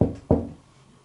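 Two knocks on something during a paranormal investigation at a village farmhouse in Skegness, close and distinct, the second louder, followed by quiet.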